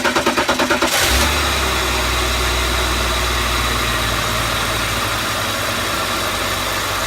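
A BMW E46 engine cranks with a rapid stuttering whir for about a second, then catches and settles into a steady, close, low idle hum that continues evenly to the end.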